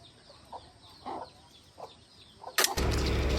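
Hens and chicks cluck softly in short, scattered calls close by while fish is cleaned in a village yard, then a sudden loud rustling noise takes over.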